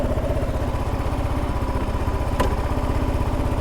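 Kawasaki KLR650 motorcycle engine idling roughly at low revs, a steady close thumping pulse that barely keeps running, with one brief sharp click partway through.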